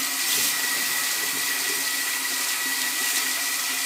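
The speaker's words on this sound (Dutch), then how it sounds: "dit water wordt een beetje lauw" Water runs steadily from a shower head in a hotel bathroom in Turkey, a continuous close hiss with no breaks and no speech over it.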